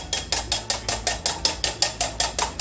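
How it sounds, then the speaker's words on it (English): Cream is whisked by hand in a bowl, giving quick, steady, evenly spaced scraping strokes, about three or four per second, close and fairly loud with no voices. "I've been whisking it. It's a bit of a time-taking procedure."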